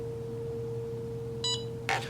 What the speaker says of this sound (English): So that beep triggered the OSD